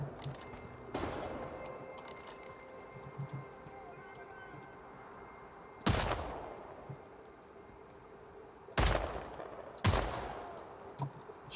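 Gunfire in the Wolfenstein: The New Order train-stopping level: a few loud, sharp shots spaced several seconds apart over a low rumbling background of machinery and ambience.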